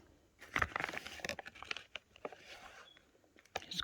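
Plastic packaging around a Febi camshaft adjuster valve for a BMW F30 N20 being cut and torn open, giving close, irregular crinkling and crunching bursts with short pauses between them.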